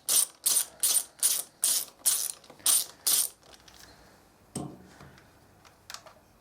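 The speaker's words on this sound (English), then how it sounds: "Next stage is to undo this rear rocker cover bolt here. It's a T50." A ratchet undoes a T50 rear rocker cover bolt on a BMW R1200RS motorcycle: eight crisp, close, evenly spaced clicking bursts, then quieter tool handling and a single knock.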